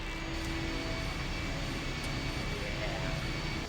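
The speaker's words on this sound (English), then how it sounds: "The engine's starting up again." A mechanical engine starts up in the video game I Have No Mouth And I Must Scream, giving a loud, steady broadband drone that holds without a break throughout.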